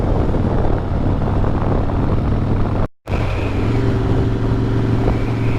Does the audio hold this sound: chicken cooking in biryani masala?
no